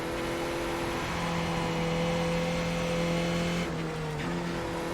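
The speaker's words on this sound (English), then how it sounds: "there's a faster car bearing down on you" A race car in the iRacing sim holds a steady, loud engine whine that shifts pitch as a faster car closes in and passes near the end, with no talk over it.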